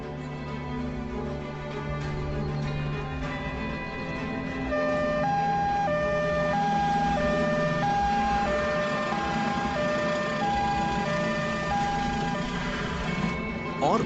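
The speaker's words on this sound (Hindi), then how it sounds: "एक एम्बुलेंस।" An ambulance siren wails in a steady repeating two-tone pattern, growing louder midway and continuing over background rumble and voices.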